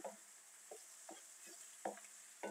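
Tomato paste and onion frying in a pan while being stirred: a faint, steady sizzle with regular, soft scraping strokes roughly every half second, and no talking.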